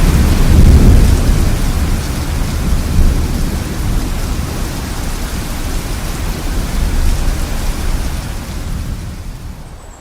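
Heavy rain pours steadily while deep thunder rumbles early on, the storm's wash of noise holding loud and constant throughout.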